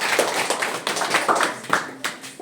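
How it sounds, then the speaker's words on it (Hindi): Classroom applause for a student: a burst of many children clapping together, close and fairly loud, with uneven overlapping claps running steadily for a couple of seconds. "बहुत बढ़िया, जोरदार ताली बच्चे को।"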